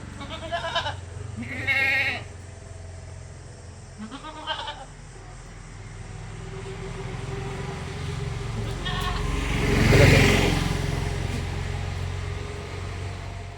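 A young Hyderabadi cross goat bleats a few times early on, short wavering cries, followed by a louder rush of background noise; no one speaks.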